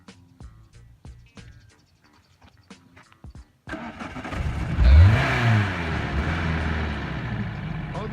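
Renault car engine cranking, catching and revving up loudly after a quiet stretch of faint clicks and voices, then settling into a rough, steady idle with people talking nearby.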